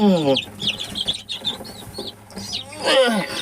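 Chickens and roosters cluck and squawk in a home garden, several birds calling close by in overlapping bursts, with a louder rising call near the end.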